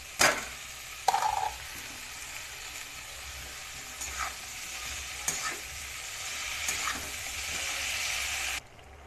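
Boiled pumpkin greens and potato frying in a pan, a soft even sizzle punctuated by several sharp scrapes and clinks of stirring, cutting off abruptly near the end.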